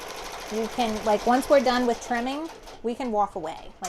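A multi-needle embroidery machine stitches an applique beach towel, its rapid mechanical stitching running steadily under close, continuous talking from a woman.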